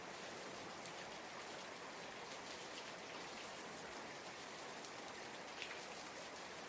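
Steady rain falling on surfaces, a dense even hiss of drops that stays constant and fairly close throughout, with no voices or other sounds.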